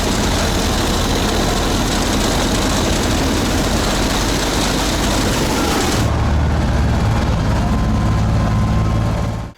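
An all-terrain swamp vehicle at an off-road competition runs loudly at close range with a steady heavy engine drone, shifting to a deeper rumble near the end before cutting off abruptly.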